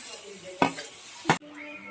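Vegetables with garam masala, capsicum and carrot fry in a pan for beef biryani as a soft sizzle, broken by two loud scraping stir strokes before the sound drops sharply.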